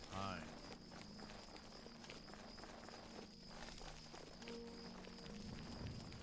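Hooves of Winter Frost, a horse ridden in the video game Oblivion, clip-clop in a steady, fast travelling rhythm throughout, moderately loud under continuous game ambience.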